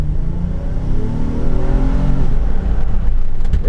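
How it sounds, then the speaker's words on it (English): A 2014 Acura MDX pulls away from a standstill to about 40 mph, its engine note climbing steadily and loud as it revs harder toward the end. "let's see how it accelerates from 0 maybe to 30"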